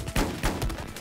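Gunfire in the Battlefield 4 video game, a couple of quick loud shots in rapid succession, heard close and alone.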